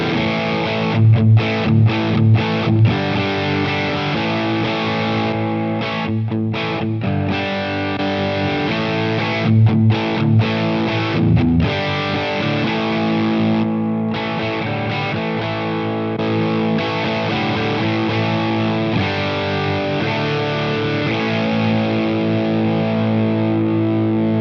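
Electric guitar through an overdrive boosted by a Strymon Compadre pedal into a clean amp, a loud, continuous distorted passage of sustained chords and picked notes with no talking.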